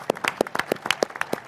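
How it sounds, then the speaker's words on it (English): Audience clapping at a boxing press conference for Beterbiev vs Bivol during Riyadh Season, a short burst of scattered, moderately close applause. "a big round of applause for His Excellency"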